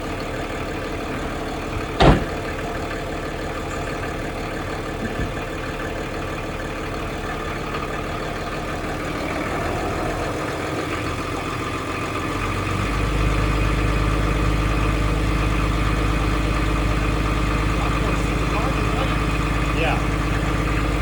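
A brand-new houseboat engine turns over and settles into a steady, low idle that gets louder after about twelve seconds, with a brief knock near the start and people talking nearby.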